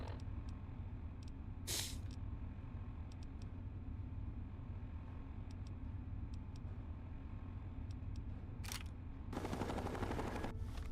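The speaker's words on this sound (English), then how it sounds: "I guess it's time to use my guns" Gunfire from weapons in Fallout 3 rattles in quick bursts against a constant low rumble, with a brief blast early and a denser, louder volley near the end.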